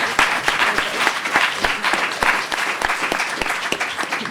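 An audience at a summit session applauds its speakers with steady, moderately loud clapping that carries on without pause across the whole stretch.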